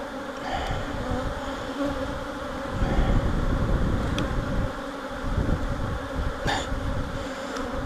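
Honeybees swarm loudly around an open hive during an inspection, their dense, continuous buzzing close to the microphone and rising and falling in intensity, with a few individual bees passing near.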